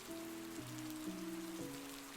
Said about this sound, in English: the world seemed to narrow to the sound of the rain